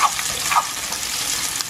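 Onions frying in hot oil at the start of a mixed seafood stir fry, a steady broadband sizzle with faint crackle and a couple of brief higher clinks, continuous and close with no talk.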